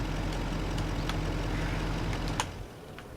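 A truck engine in Farm Sim 25 runs at a steady low rumble, loud and close, then cuts off abruptly near the end, leaving quiet background hum and no talking.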